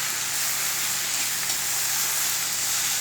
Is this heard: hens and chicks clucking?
no